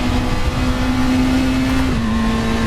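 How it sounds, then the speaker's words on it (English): Race car engines roar loudly and steadily in the racing game RaceRoom, a sustained high-revving drone with a slight pitch drop near the end. "Is it just me or are these cars like way too loud?"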